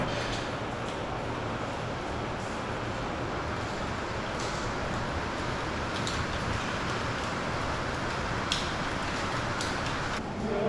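Rain in Tanzania pouring down into an open corridor beside chairs, a steady dense wash of falling water with faint spatters, continuous and close throughout with no talk.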